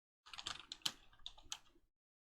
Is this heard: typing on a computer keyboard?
yes